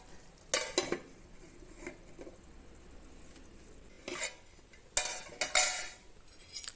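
A spoon scrapes and clinks against a pot as ghee and chopped coriander are mixed into cooked rice, giving a few quiet, uneven bursts of stirring with short pauses between them and no talking.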